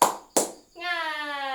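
Children in a classroom do a spirit clap: two sharp, close hand claps, then a sustained voice calls out a chant right after.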